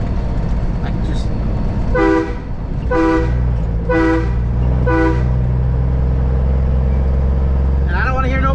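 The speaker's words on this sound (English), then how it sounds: "So crazy with the Jake brakes and the train horn, it just echoes in the woods." A loud semi truck train horn blasts four times in a regular pattern, then a deep rumbling engine continues with a faint tail echoing through the woods and another horn near the end.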